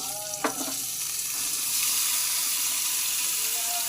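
Chopped cauliflower, flat beans, potato, green chilli and ash gourd are tipped into hot oil with a sudden splash, then settle into a steady, close frying sizzle.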